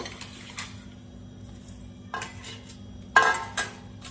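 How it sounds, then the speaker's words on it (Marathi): Chopped cabbage, cucumber, carrot and peas being tossed together in a bowl, giving a few separate bursts of clinking and scraping with quiet gaps between them. "आता या सगळ्या भाज्या आपल्याला एका बाउलमध्ये मिक्स करून घ्यायच्या"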